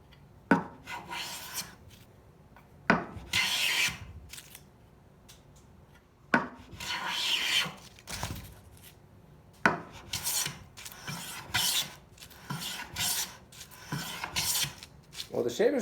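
Old hand plane, bought secondhand with only a freshly sharpened blade, shaving a wood surface: a series of raspy, rushing strokes, about eight passes with short pauses between, close and fairly loud, without speech.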